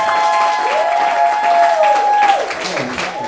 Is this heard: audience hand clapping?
yes